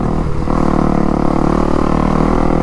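Homemade electric dirt bike riding close by over dirt with a loud, steady mechanical whine and clatter throughout, a brief scrape of slung dirt near the start.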